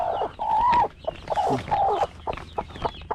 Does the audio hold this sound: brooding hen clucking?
yes